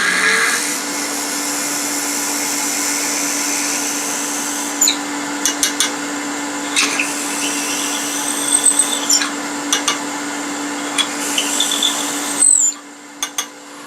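A wood lathe hollowing out a miniature bird house gives a steady, loud whirring hum, broken by short scraping bursts of the tool against the wood, before the motor cuts off near the end.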